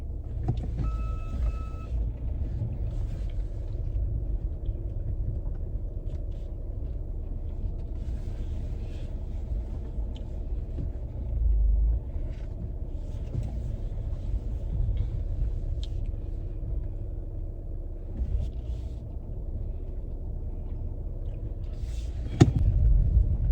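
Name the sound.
car being driven out of a crowded parking lot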